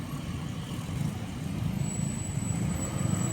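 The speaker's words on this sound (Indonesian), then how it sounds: "dan juga ada mobil box siap melintas di CPL ini" A box truck rumbles near a railway level crossing, its low engine drone steady and fairly close, with a thin high whine rising partway through.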